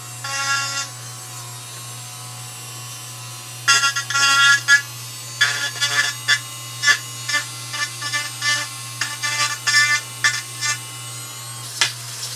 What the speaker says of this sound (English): I'm just going to grind these little nibs out of here